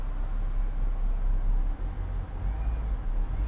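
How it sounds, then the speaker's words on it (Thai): A Honda City with automatic transmission, parked in P, its engine running and revving steadily under a pressed accelerator, a continuous loud low rumble with a slight dip partway through. "เดี๋ยวใส่ตัว P เหยียบคันเร่งให้หน่อย"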